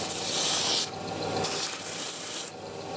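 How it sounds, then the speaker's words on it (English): A pneumatic sanding drum grinds against toy farm bike parts, giving a continuous loud rasping hiss that eases and swells in pressure over a few seconds, with no voice. "then we move over to the next pneumatic sander"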